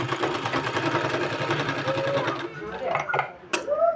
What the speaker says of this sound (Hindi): इसको फिर इस तरह से सुंदर सा गोलाई देते हुए फिर यहाँ हमको सिलाई लगा देना है